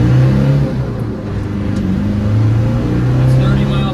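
1996 Land Rover Defender 90 with the 300Tdi diesel engine accelerating hard through the gears, a loud steady engine drone heard from inside the cab.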